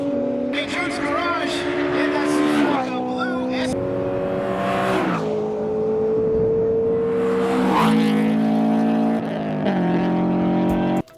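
A race car engine drones steadily at high revs on a track during a time attack event, shifting pitch as it accelerates and changes gear, loud and continuous.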